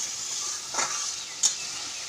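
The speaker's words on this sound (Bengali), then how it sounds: "আমার মশলাটা কষানো হয়ে গেছে" Spiced masala paste sautéing in a pan for mutter paneer, giving a steady soft sizzle with two brief scraping stirs, close and without talk.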